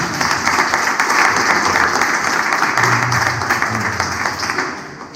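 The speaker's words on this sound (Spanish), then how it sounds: "Un aplauso para Gonzalo" Steady, dense audience applause fills a hall at a guitar gathering in Basauri, loud and sustained for several seconds as a guest speaker is welcomed, with a low murmur of voices underneath.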